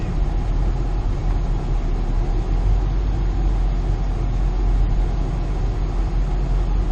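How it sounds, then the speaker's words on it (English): A logging truck carrying about three-quarters of a load drives past. Its engine gives a loud, steady rumble close by for the whole stretch, with no voices over it. "There was a logging truck, almost 3/4 of a load."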